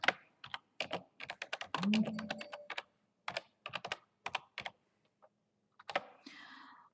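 Quick bursts of computer keyboard typing while entering a question into an online survey form, in close, crisp clusters of keystrokes separated by short pauses, with a few isolated taps near the end.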